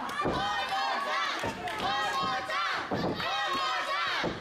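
A live wrestling crowd at a ring event cheers and chants in rhythmic swells, loud and continuous, with a commentator's voice speaking over the noise throughout.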